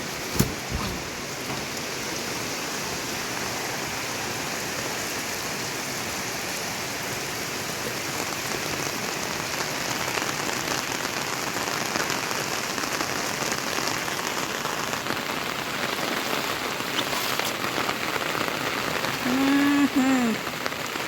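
Heavy rain pours steadily onto surfaces during a flood-threatening storm, a dense, continuous hiss with patter close by, swelling slightly louder later, with no talk over it.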